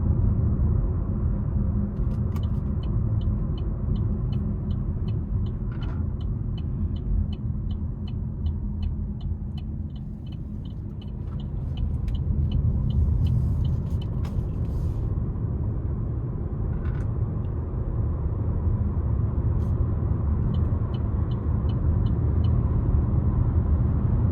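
Inside a 2026 Buick Encore GX Sport Touring with a 1.3-litre turbo three-cylinder and CVT, a steady low engine and road rumble fills the cabin, dipping briefly before rising again under acceleration, with light clicking ticks over it.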